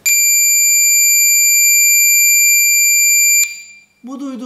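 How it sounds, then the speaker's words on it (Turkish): A single shrill electronic beep, roughly 1 to 3 kHz, from a 9-volt oscillator circuit holds steady for over three seconds, then cuts off, followed by a brief burst of speech. "Bu duyduğumuz ses yaklaşık 1 ya da 3 kHz'lik bir tek bip sesi"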